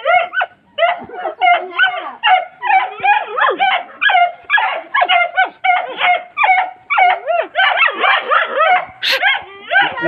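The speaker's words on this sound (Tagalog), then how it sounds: "Ang ingay ng mga aso." Several dogs bark and yip in rapid, overlapping bursts nearby, loud and continuous with short whines mixed in.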